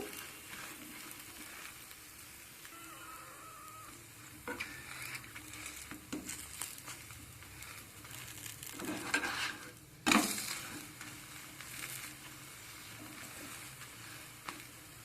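A vegetable paratha is pressed and fried in a pan, with a steady sizzle punctuated by scraping and utensil clinks against the pan. A loud, brief flare of hissing comes midway, then the frying settles back to a quieter crackle.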